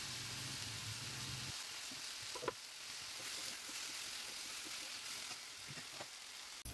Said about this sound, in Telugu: ఈ టైప్లో ఆనియన్స్ వేగిన తర్వాత ముందుగా మనం తరిగి పెట్టుకున్న టమాటా ముక్కల్ని కూడా ఇందులో వేసి బాగా వేయించుకోవాలి